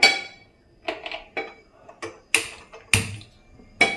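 A cooking pan is picked up and set down, giving a string of sharp metallic clanks and taps spaced irregularly over a few seconds, close and fairly clear with no talk.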